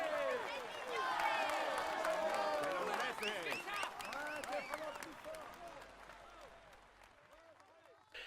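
Outdoor crowd applause and cheering for a rider at a Tour de France 2017 stage podium ceremony, a loud sustained roar of clapping and shouts with a public-address voice over it, gradually fading toward the end.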